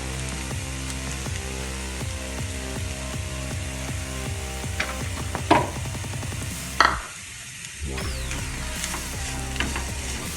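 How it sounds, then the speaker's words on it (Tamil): Cassava pieces fry with grated coconut in a pan, a steady sizzle broken by repeated rhythmic scrapes and stirs of a spatula, with a brief quieter gap near the end before the frying resumes. "இப்போ நம்ம கடைசியாக இந்த தேங்காய் பூவை போட்டு நல்லா தூண மாதிரி போட்டு கிளறிக்கலாம்."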